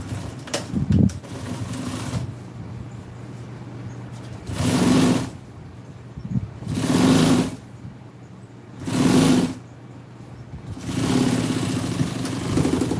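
An electric sewing machine hemming the vinyl seat cover of a 1974 Ford F-100 pickup, whirring loudly in several separate bursts of about a second each, with quieter gaps of handling between runs.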